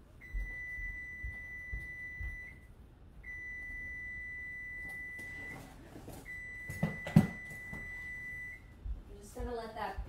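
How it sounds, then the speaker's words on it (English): An electronic timer sounds three long, steady high-pitched tones with short gaps between them, while quiet kitchen clatter and a brief voice play underneath. "Gonna let that beep so they can have that last minute in the oven"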